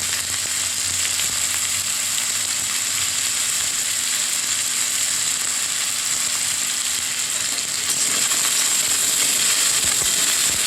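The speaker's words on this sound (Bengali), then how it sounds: "হালকা লাল লাল করে ভাজা হয়ে যাওয়ার মধ্যে একদম হয়ে গেছে" Food fries in a hot pan until lightly browned, giving a steady, loud sizzle throughout that grows a little brighter near the end, with no talking.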